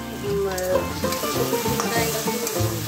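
Pre-fried potatoes sauté in oil in a pan with a continuous close sizzle and crackle, with stirring and a faint murmur of voice underneath.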